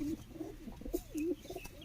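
A pigeon gives soft, low cooing calls close by, a few rolling coos over faint background noise.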